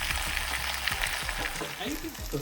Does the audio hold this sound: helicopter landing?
no